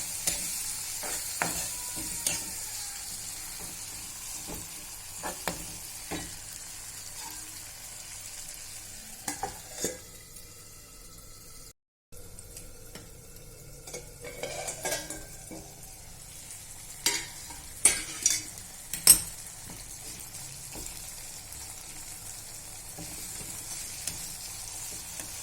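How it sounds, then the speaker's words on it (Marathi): Finely chopped tomato fries in a pan for a capsicum vegetable dish, with a soft, steady sizzle broken by scattered scraping stir strokes, fairly quiet and close. "नंतर टाकूया बारीक चिरलेला टमाटर, याला 2 मिनिटे छान होऊ देऊया."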